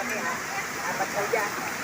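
River water flowing steadily at Wawa Dam in Montalban, Rizal, a continuous broadband rush with no breaks, moderately loud and close, like rain or a small waterfall.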